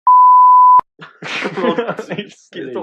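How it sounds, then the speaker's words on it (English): A single loud, steady tone beeps for under a second, then people start talking right after it. "We'll beep it"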